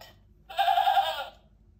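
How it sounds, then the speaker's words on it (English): A goat bleats once from an animal sound book, a short nasal wavering cry of about three quarters of a second against a faint low hum, fairly close, with no talk. "Can we hear the sound of the goat?"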